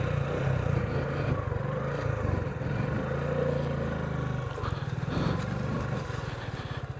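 A motorcycle engine drones steadily and loudly throughout while riding along a border road near Gajukata village in Beanibazar, Bangladesh, with wind rush and slight pitch shifts as it moves, no talking heard.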